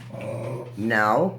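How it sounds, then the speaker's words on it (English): Nacho the dog lets out a short, close growl that rises into a whiny, strained yelp, heard alongside a person's voice. "That's my dog, Nacho."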